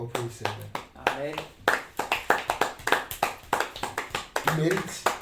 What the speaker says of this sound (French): Allez, applaudissez, applaudissez.